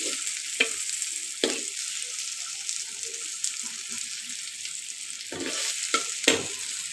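Eggplant slices frying in a pan make a soft, steady hiss, broken by a few sharp utensil knocks and clatters, with no talk.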